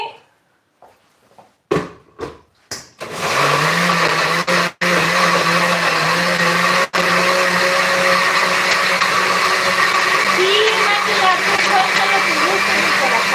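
A kitchen blender grinds spices for cochinita pibil, starting with a few short pulses and then running in a loud, steady whirring roar with one or two brief pauses, close and continuous.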